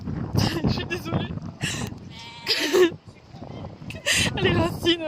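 Sheep bleat repeatedly and nearby in a pen shared with donkeys and ponies, their cries overlapping a voice speaking to them in French.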